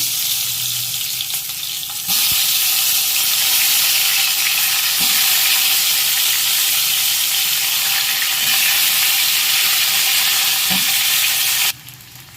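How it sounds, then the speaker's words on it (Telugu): Stuffed brinjals sizzle steadily in a hot pan with a loud, continuous hiss that swells after the first couple of seconds, broken by a few soft scraping stirs before it drops back near the end. "కొంచెం వంకాయలు ఇందులో వేసుకుందాం"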